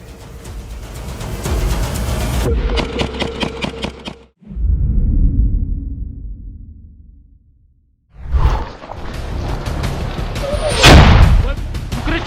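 Loud, sharp blasts and booming impacts of heavy artillery and gunfire at the front line ring out, with a heavy rumbling tail fading between bursts; voices shout in the background.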